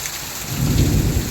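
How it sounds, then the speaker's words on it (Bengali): Steady rain falls outside, hissing on surfaces, while a deep roll of thunder swells underneath during a brief moment of the storm. "বাইরে বৃষ্টি হচ্ছে না"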